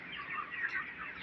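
Chickens cluck softly at a farm, a short burst of overlapping murmuring calls heard at moderate distance with no talking.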